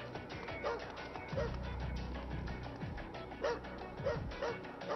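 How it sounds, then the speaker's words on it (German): Cartoonish dog barks and yips from the video game Astral Chain, several short yaps in a row over steady game music and background ambience, with a voice talking briefly. "Oh, da ist der Hundi."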